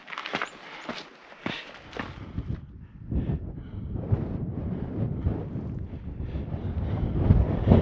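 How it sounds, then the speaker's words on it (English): Strong gusting wind on the East Longs Peak Trail in the Rocky Mountains buffets the microphone, opening with sharp bursts, then settling into a steady rough roar that swells louder toward the end, with no talk. "It's windy up here today on the East Longs Peak Trail."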